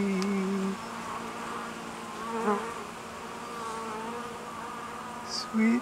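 Bees buzz around a beehive, a continuous droning hum of many insects close by, with a few brief louder passes as individual bees fly near.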